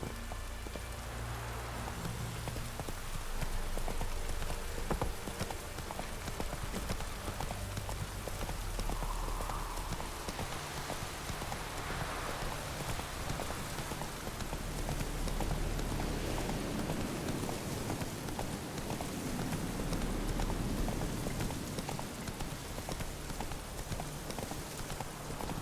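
Geralt's horse Roach trotting in The Witcher 3, steady clip-clop hoofbeats under continuous rain pattering on surfaces, with a brief voice at one point.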